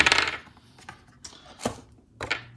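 Small dice clatter onto a tabletop during a Magic: The Gathering Innistrad Midnight Hunt prerelease kit opening, giving a bright rattle at the start and then a few lighter clicks and bounces as they settle, close and alone.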